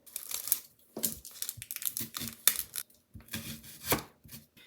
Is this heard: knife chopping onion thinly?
yes